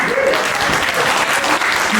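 Applause from a conference audience at a Windrush community event greeting the host, Nigel Guy MBE, as full steady clapping fills the room while a voice speaks over it.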